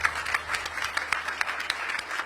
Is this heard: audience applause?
yes